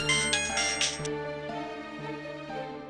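A mobile phone plays a melodic electronic ringtone, its clear, repeating musical notes sounding alone and fairly close for a few seconds.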